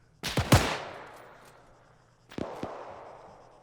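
Bolt-action rifle shots in Arma 3 during a WWII battle: two loud, sharp cracks close together, then a long decaying echo, and a second pair of shots about two seconds later.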